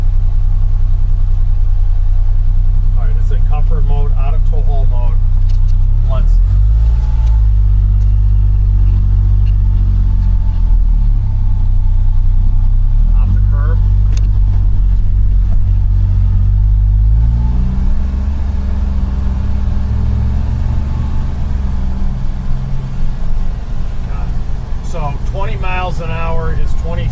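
A Polaris Ranger UTV engine revs up and drops back several times in a loud, close low rumble, with someone talking over it throughout.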